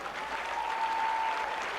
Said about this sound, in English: One more round of applause for Grant Gunnell